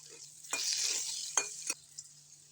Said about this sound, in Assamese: এয়া আলুখিনি ফ্ৰাই হৈ গৈছে।